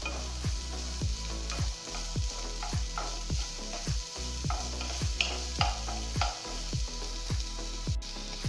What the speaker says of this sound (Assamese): অকণমান মই ভাজি ল'ম।